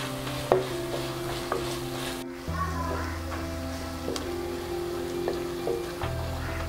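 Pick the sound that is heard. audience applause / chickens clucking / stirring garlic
stirring garlic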